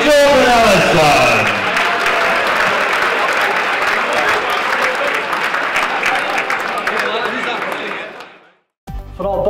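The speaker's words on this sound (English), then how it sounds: "please, ladies and gentlemen, keep the applause going" Boxing crowd at St Andrew's Sporting Club in Glasgow applauding and cheering after a bout, a loud, sustained roar of clapping that rises slightly then cuts off sharply near the end.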